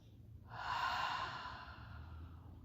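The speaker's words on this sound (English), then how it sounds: "take a couple of belly breaths, fill up your belly with air, breathe in through the nose, breathe out through the mouth" A single slow belly breath during a yoga core session, drawn in through the nose and released out through the mouth as a soft, close airy exhale that swells then fades.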